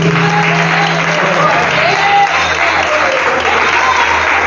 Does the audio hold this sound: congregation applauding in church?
yes